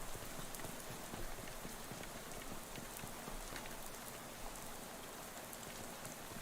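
Steady rainfall in the video game Shadows over Loathing, a soft, constant hiss of drops pattering on surfaces with faint scattered taps, quiet and uninterrupted.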